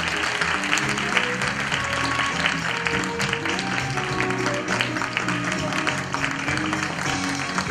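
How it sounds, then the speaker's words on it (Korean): Applause welcoming an award recipient at a Seoul choreography festival gala and opening reception, loud dense clapping from a large audience over continuous background music. "박수로 맞아주시기 바랍니다."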